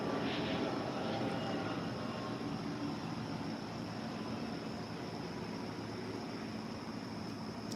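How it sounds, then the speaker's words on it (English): An airplane passing overhead during a morning outdoors, a steady distant broadband roar that holds evenly throughout with no other distinct sounds. "And I hear another airplane."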